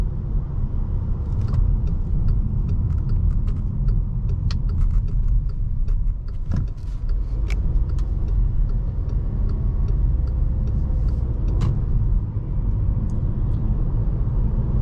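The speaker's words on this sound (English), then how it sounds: "So 2-liter turbo is pretty quiet in this car." Steady road noise from a 2022 VW Passat Limited Edition with a 2-liter turbo engine, heard from inside the cabin while cruising: a continuous low rumble with faint ticks and rattles and no speech.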